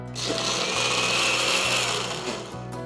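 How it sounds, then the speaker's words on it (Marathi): A mixer grinder whirs loudly as it grinds roasted chana dal into powder, a steady high motor whine with brief dips as the blades spin up and ease off. "डाळवं आधी हुरकन फिरवून घ्यायचं, म्हणजे त्याची पूड तयार करून घ्यायची"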